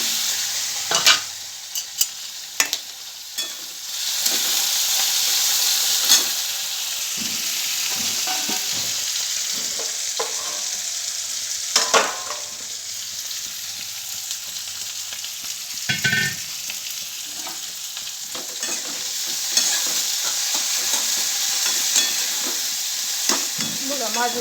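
Cumin, mustard seeds, onion and peanuts fry in hot oil for a breakfast upma, a steady close sizzle broken by scraping stirs and light clinks of the spoon against the pan.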